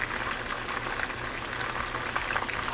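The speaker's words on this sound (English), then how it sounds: "I'm gonna sear some cod I have soaking in this" Battered cod searing in a hot pan gives a faint, steady sizzle and soft bubbling, continuous throughout with no talking.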